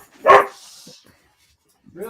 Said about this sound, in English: dogs do bark after all